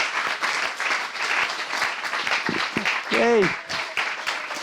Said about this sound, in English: Keep on applauding.